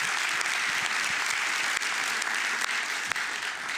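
An award ceremony audience gives sustained applause as a company executive steps onto the stage to collect a prize: thick, even clapping from a full room, bright and continuous, with a few louder claps popping out.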